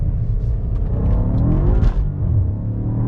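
A 2018 BMW M5 with four-wheel drive set to 2WD is floored in first gear, its engine rumbling loudly from inside the cabin as the revs climb steadily and peak near the end before easing slightly.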